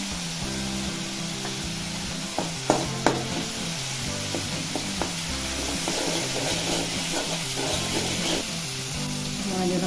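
Boiled, squeezed and ground spinach paste sautéed in hot oil with turmeric, with a steady sizzle under the stirring and a few sharp clinks of a spoon against the pan throughout.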